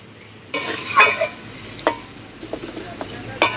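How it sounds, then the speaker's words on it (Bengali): Chicken feet are stir-fried and scraped around a pan, with bursts of sizzling and several louder scraping strokes close by. "সুন্দর আমি এইগুলোকে কষাচ্ছি"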